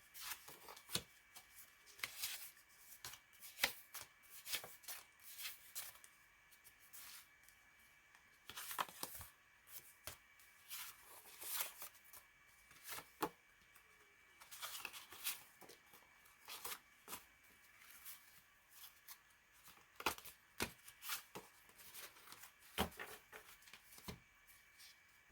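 Old paper library catalog cards are shuffled and handled during craft studio organizing, giving soft, close papery flicks and rustles in irregular bursts over a quiet background.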